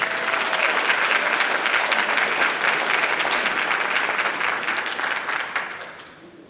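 Audience applause for the MVPs at a high school basketball awards event, a steady crowd of clapping hands, close and loud, tapering off in the final second.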